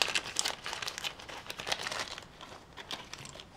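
Plastic bag crinkling and rustling close by, a steady run of crisp crackles with no voices.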